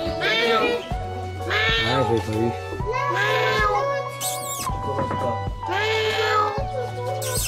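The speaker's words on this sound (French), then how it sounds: "il est beau ce chat-là." A cat at a zoo gives a series of loud, close meows in a repeated rhythm, about five drawn-out calls, with a person speaking briefly between them.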